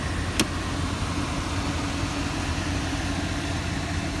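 A Callaway-tuned 757 horsepower Corvette Z06 engine runs at a steady low rumble, near and constant throughout, with one brief sharp click early on and no voices.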